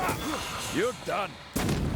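A single sharp gunshot booms near the end of a short stretch in the video game Banishers: Ghosts of New Eden, following voices talking.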